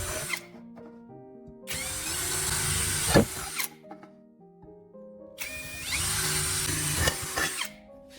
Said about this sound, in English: Grab a drill and drill through each marked dot.